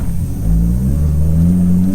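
A 700bhp Nissan Skyline R33 GTST with a loud exhaust revs hard, a deep, close engine rumble rising steadily in pitch and swelling throughout.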